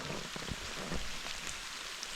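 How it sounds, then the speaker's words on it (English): Steady rain falling outdoors near park benches and tables, a dense even patter of drops with a few louder nearby hits, fairly faint and without talking. "so we could sit there if it wasn't raining. It's coming down now."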